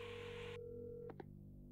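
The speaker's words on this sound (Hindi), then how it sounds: "बैकग्राउंड में फोन डायलिंग की आवाज आ रही है।" A phone-dialing tone in the survival horror game Resident Evil 7 plays as a steady, faint electronic tone over a low hum, then cuts off and two brief tonal blips follow near the end, with no voices.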